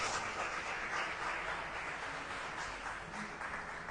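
A church congregation applauds in a steady, dense wash of clapping that holds evenly for several seconds, with no talking over it.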